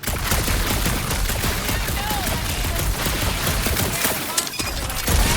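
Rapid gunfire from a shooter game set on a dark monster planet in Guardians of the Galaxy, a dense steady barrage of shots with brief crashes, loud and continuous across the whole stretch with voices faintly mixed in.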